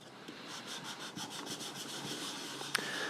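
Fine sandpaper rubbing over a filled plastic 3D-printed superhero shell, a steady close rasping stroke repeated in an even rhythm, with one sharp tick near the end and no talking.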